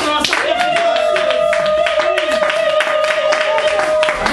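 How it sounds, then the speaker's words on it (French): A church congregation clapping and cheering, with dense rhythmic applause and voices, loud and close, while a sustained tone hums underneath. "On entend les acclamations."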